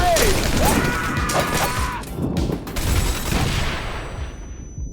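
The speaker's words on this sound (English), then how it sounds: "Grenade!" A grenade blast and rapid gunfire in the action video game Wanted: Dead, with a loud crashing burst and clattering shots over the first seconds, then a tail of scattered impacts fading into quieter ambience.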